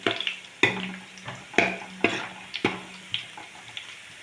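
Chilli powder sautés in coconut oil in a pan. A spoon scrapes and knocks the pan about every half second, each stroke sharp and close, over a light sizzle.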